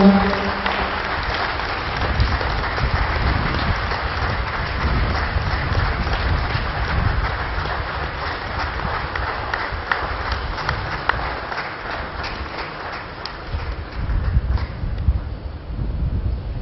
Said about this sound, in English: she deserves a louder round of applause, a standing ovation